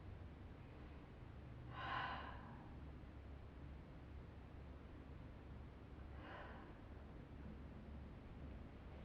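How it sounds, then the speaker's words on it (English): Two slow, deep breaths taken during a quiet yin yoga session, the first around two seconds in and a softer second one several seconds later, each a breathy rush over a low steady hum. "take 2 deep breaths here."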